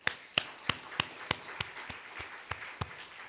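A church congregation claps in an even, steady rhythm, with about a dozen sharp, distinct claps spaced evenly apart against a quiet room background.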